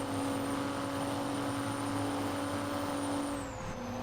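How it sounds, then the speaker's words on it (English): Semi truck engine in American Truck Simulator droning steadily with a deep, constant tonal hum and a steady rumble that shifts pitch slightly near the end, continuous and fairly loud with no talk. "That monster of a semi just chugging along."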